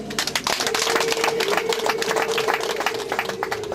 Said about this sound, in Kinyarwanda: twabihera amashyi n'impundu